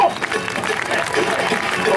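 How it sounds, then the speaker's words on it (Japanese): Audience applause fills a crowd area at the Tokyo Motorcycle Show trial demonstration, a steady, dense clapping throughout at moderate loudness with no talk over it. "拍手を入れ"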